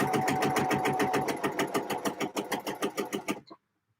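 A sewing machine stitching a skirt seam runs at a steady fast rhythm, then slows into distinct pulsing stitches before stopping abruptly; close and clear, with no talk over it.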